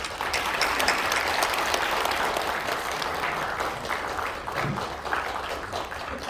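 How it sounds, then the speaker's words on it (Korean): Sustained audience applause at a first quantum seminar welcoming a speaker to the stage, a moderately quiet, even wash of many hands clapping throughout with no speech over it. "큰 박수로 맞아주시기 바랍니다."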